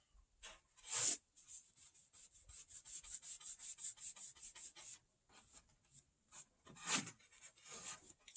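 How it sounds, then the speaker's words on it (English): Brush strokes rubbing a second coat of finish onto redwood deck boards, a rapid series of close, scratchy swipes with a couple of louder sharp scrapes, no voices. "I'm going to put a second coat on the deck material just to see what it looks like."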